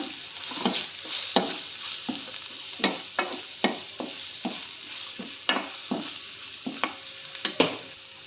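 Puffed rice with salt and chaat masala stirred by hand for pudina masala mandakki, a series of rhythmic rustling, scraping strokes roughly every half second, close and moderately loud with no talking.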